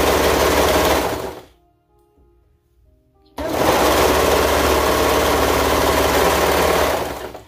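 A sewing machine top-stitches a leotard's leg bands with a loud steady motor whir, stopping for about two seconds before running again at full speed.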